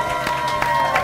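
A studio audience applauds as guests are welcomed onto a comedy game show. The clapping is brief and moderately loud, with a tonal musical bed running beneath it.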